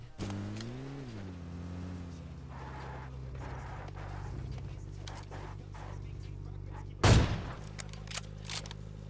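Gunfire in Battlegrounds Mobile India from a skinned AWM sniper rifle: one loud, sharp shot crashes out near the end over a steady low engine-like drone and faint background game noise.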